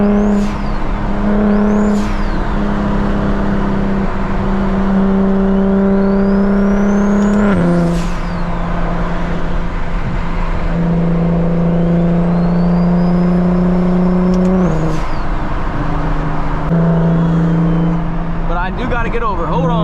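A BMW 335is with a big turbo, driven at night, revs and downshifts. Engine tones climb and drop repeatedly, with sharp rev blips at the shifts. The sound is loud and close inside the cabin, and the driver talks over it.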